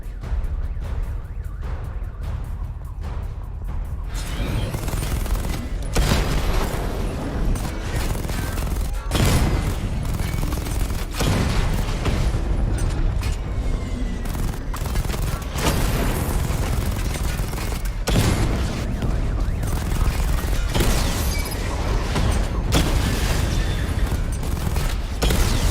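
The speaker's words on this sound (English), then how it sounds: "Charge up missile barrage to level 2 and destroy 4 active targets to complete diagnostic test." Sustained missile barrage firing in Batman: Arkham Knight, a dense run of loud, rapid explosive bursts and booms that continue for the whole stretch with no talking.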